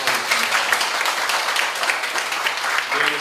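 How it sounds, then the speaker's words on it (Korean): Audience applause welcoming a pastor at a Baptist revival association inauguration ceremony, a steady sustained wash of many hands clapping in a hall, loud and continuous for the whole stretch. "박수로 환영해 주시면 감사하겠습니다"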